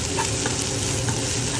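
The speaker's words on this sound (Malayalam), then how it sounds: "അതിനുശേഷം എല്ലാം കൂടി നന്നായി മിക്സ് ചെയ്ത് ബ്രൗൺ കളർ ആകുന്നത് വരെ ഇളക്കുക." Onion and green chilli being stirred and fried until brown for a mutton liver pepper roast, giving a steady close sizzle with soft scraping stirs throughout.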